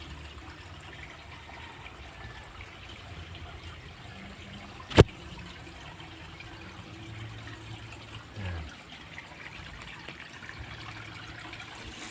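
Water from a strong natural spring in a jungle setting: a faint, steady trickling rush that continues throughout, broken by one sharp click midway.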